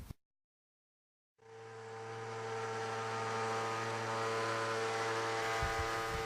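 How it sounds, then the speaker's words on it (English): A 200 kilowatt resonant pile driver installs an AZ13 sheet pile pair into saturated dense sand. After a second of silence a loud, steady droning hum starts and holds for several seconds, with a low engine tone under it. "What you are witnessing is a 200 kilowatt resonant pile driver installing an AZ13 pair into dense sands that are saturated."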